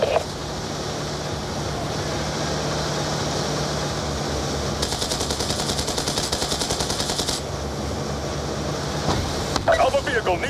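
Rapid automatic gunfire hits a vehicle convoy in the Call of Duty: Black Ops II video game, a steady mechanical rumble with a long dense burst in the middle and sharper shots at the end, while a voice speaks over it.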